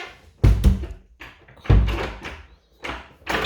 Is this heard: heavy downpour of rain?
no